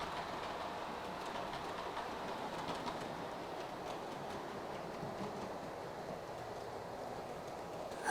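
A model railway train rolls steadily across a viaduct in a continuous faint rumble with light clicking, and no voices are heard.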